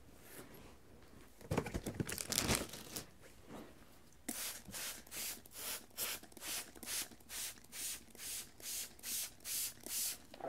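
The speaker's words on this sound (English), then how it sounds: "I'm gonna get a spray in there real quick" A spray bottle mists a houseplant repeatedly, close up: a few irregular bursts at first, then a steady run of about a dozen evenly spaced hissing squirts.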